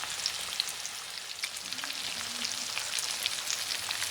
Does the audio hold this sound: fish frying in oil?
yes